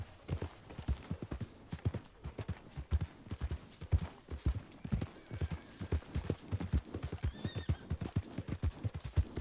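Rhythmic hoofbeats of a horse galloping in Red Dead Redemption 2 at a steady pace, close and clear, with a brief whinny partway through.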